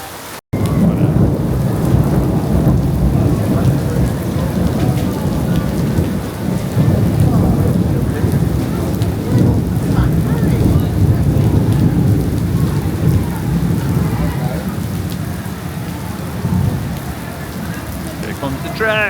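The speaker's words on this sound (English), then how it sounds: "There's a massive storm happening right now just as we're about to get on the train." A thunderstorm with heavy rain pounds down steadily beside a train platform in Vietnam, with thunder rumbling and voices of a waiting crowd murmuring beneath the loud, continuous downpour.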